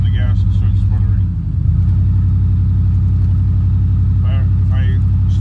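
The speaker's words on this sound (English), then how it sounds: "an empty truck when I step on the gas and start sputtering" Low idling engine rumble of an empty truck sputtering as the gas is pressed, a loud, steady close drone with a brief dip, while someone talks over it.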